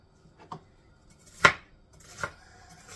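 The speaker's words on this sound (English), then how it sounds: "I'm going to get all those onions chopped up." A knife chops onions on a board in three sparse, separate strikes, the middle one loudest, in a quiet room.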